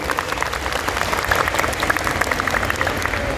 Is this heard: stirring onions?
no